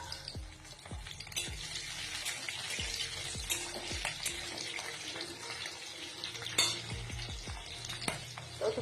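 Crushed whole garlic cloves and chopped green chilies fry in a pan in a home kitchen, with a steady sizzle and scattered clinks and scrapes of stirring, moderately quiet and without voices.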